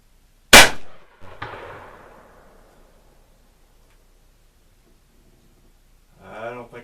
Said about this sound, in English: I'll go ahead and do some shooting here